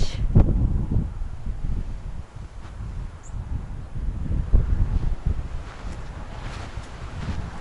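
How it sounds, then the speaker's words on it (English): Cold, blustery wind gusting across the high desert of Joshua Tree National Park, a steady broadband roar buffeting the microphone in uneven surges with no voices. "Ice cold wind up there."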